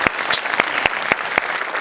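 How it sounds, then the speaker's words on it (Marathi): A studio audience gives brief, brisk applause with sharp, closely spaced claps that sound near and fairly loud. "बस मी टाळ्या वाजवू शकतो"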